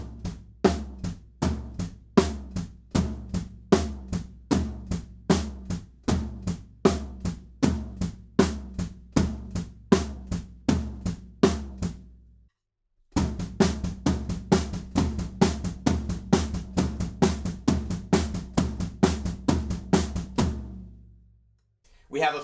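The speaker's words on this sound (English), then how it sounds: "we're into a big tom section that sounds like this." A drum kit plays the big tom section of a song: a long run of evenly spaced, booming tom hits that pauses briefly midway, then resumes and fades out.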